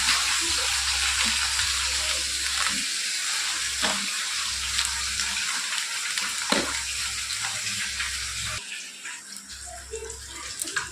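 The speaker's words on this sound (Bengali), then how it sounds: "এখানে মাছ ভাজাটা বসিয়েছি" Fish frying in a pan on a home kitchen stove gives a steady, close hiss of sizzling oil with scattered soft clicks and a low hum underneath, and no voices.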